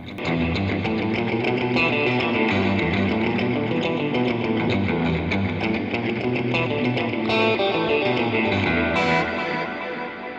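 Electric guitar through a NUX NDD-7 tape echo delay pedal playing sustained chords drenched in echo and delay, repeats smearing into a thick, continuous wash at steady loudness.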